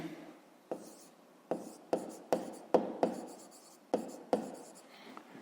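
Pen or chalk writing down a fifth-grade math solution: a series of distinct scratchy strokes, each starting with a sharp tap and trailing off, spaced irregularly, close and clear with no talk.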